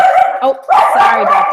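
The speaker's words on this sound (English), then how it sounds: "That's my dog." A dog barks and yips loudly close by in short bursts, overlapping a woman's apologetic speech.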